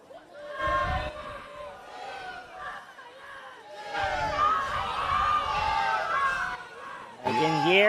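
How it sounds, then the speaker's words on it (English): Crowd cheering at an international volleyball match between India and the Philippines, voices swelling in bursts around the action, with a commentator talking over the noise throughout. "I can hear from the crowd cheering on India."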